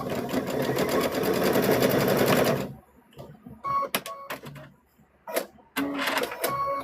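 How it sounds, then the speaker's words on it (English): Sewing machine stitching across a stuffed bear, a fast rattling run of close, loud stitches for a few seconds, then short stop-start bursts and handling noises. "So we're going to stitch across there again."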